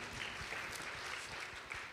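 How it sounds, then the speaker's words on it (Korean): A church congregation claps together during a Korean Sunday worship service, a steady dense wash of applause filling the short moment with no voices. "우리 하나님 앞에 영광의 박수 다시 한번 크게 올려드리도록 하겠습니다"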